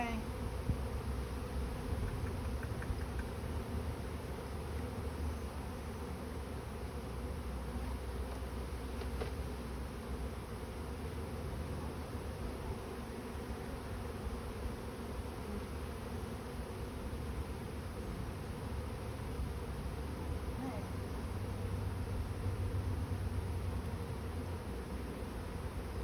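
A swarm of honeybees buzzes continuously and densely throughout, a steady, fairly loud hum close by, with faint rustling and no clear talk.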